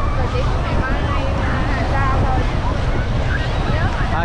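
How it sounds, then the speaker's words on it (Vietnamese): Strong wind buffets the microphone at a beach in Phan Thiet, a loud, constant rumbling roar with surf washing underneath and a voice speaking briefly. "Gió quá."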